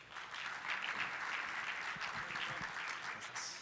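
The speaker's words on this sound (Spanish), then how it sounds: "Un aplauso, por favor." Audience applause fills a conference panel session in Mexico as an executive of Daimler Freightliner is introduced: steady, dense clapping from a crowd, sustained at an even level throughout without a break.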